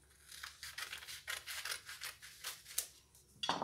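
Scissors snip through fabric around a saucer while cutting a child's romper pattern, making a rapid run of crisp, close cutting strokes with no talking.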